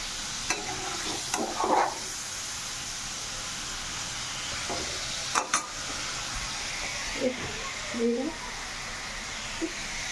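Paneer fries in a pan with a steady low sizzle, broken by a few brief stirring scrapes and clinks, close by.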